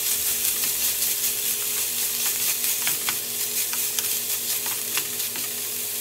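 Meat and vegetables sizzle steadily in a pan for stuffed bell peppers, a close crackling hiss with occasional sharper pops and soft stirring, no talking.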